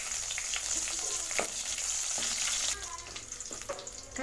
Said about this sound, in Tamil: பச்சை மிளகாயும் வரமிளகாயும் எண்ணெயில் பொரிஞ்சதுமே